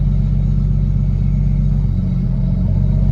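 A car engine idles with a steady, deep, close rumble while the clutch engages, and the low drone shifts slightly partway through. No one speaks.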